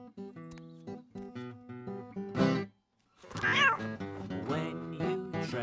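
A cartoon cat gives a couple of drawn-out, wailing meows with a brief pause between, close and clear over a light musical backing.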